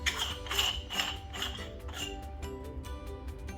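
A POTU flat burr hand grinder grinding coffee beans at the espresso-fine setting, giving a steady close-up crunching and ratcheting grind that continues without pause.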